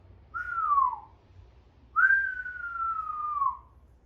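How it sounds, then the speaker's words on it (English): Two clear whistled notes from a person close up: a short falling one, then a longer held tone sliding gently downward. "I just realized I was whistling in the mic"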